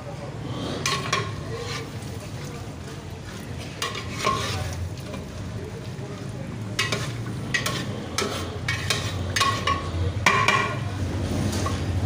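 Chicken kadhai with garam masala stirred in a pot, with repeated clinks and scrapes of a metal spoon against the pot over a soft continuous sizzle, close by and without talk.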